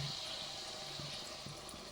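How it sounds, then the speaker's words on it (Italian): A small splash of hot water poured into a cooking pan with meat, a soft continuous trickle with faint sizzle, close and steady without speech. "un goccio di acqua calda"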